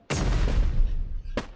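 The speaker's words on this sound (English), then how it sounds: "You just got flashbang." A single flashbang grenade bursts in the game Animal Company, a close, loud boom that rings and fades over about a second, followed by a short sharp second crack.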